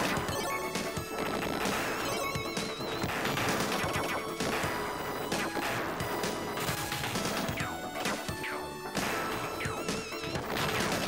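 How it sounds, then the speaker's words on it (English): Gunstar Heroes game action with constant rapid shooting, crashes and explosions packed tightly together, loud and continuous over game music throughout. "It's very hard to shoot this because I'm trying to move around"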